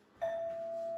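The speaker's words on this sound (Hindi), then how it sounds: "बेल बजी है, शायद आ गए हैं।" A doorbell rings inside a home, a single bright electronic tone that starts sharply and then holds steady, fairly close and clear with no talk over it.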